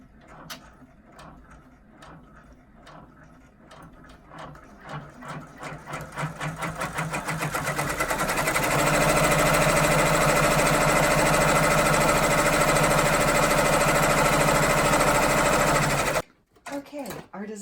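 Embroidery machine stitching the outline around flowers on a Thinking of You mug rug, quick rhythmic needle clatter that speeds into a loud steady whir and then stops abruptly, with someone talking over the early part.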